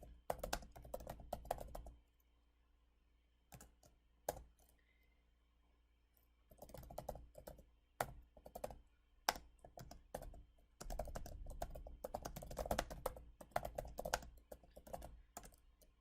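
A computer keyboard clatters in bursts of quick, close key taps, separated by brief pauses and a few isolated clicks.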